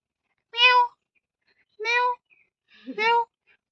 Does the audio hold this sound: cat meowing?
yes